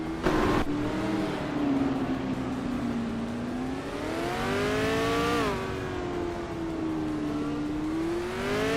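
A 1966 McLaren A10 and other race cars in a racing video game, a loud continuous engine whine that rises and falls in pitch as the car accelerates and shifts, with no talking.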